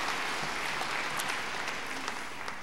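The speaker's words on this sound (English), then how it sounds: "Yes, you can applaud that" Lively applause from a large conference audience in a lecture hall, dense and continuous with crisp individual claps throughout.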